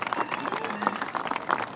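An audience claps and cheers for the mayor at a press conference, a brief, dense patter of applause from a crowd close by.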